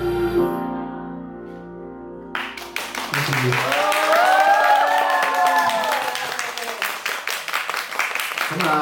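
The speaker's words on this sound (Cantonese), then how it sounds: "多謝你哋個掌聲。" Applause and cheering break out after the music of a live song ends, a dense wash of clapping from an audience that holds steady and close, with a sung note trailing through the start.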